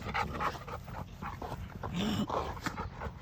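A young pup pants quickly and lets out a few soft, high whimpers up close. The breathy panting runs throughout the short moment, with no voices over it.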